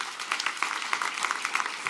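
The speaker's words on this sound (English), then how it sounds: "Give them a round of applause" Audience at a ribbon-cutting ceremony and grand opening applauds briefly, a thin scatter of individual claps from a modest crowd, moderately close and irregular.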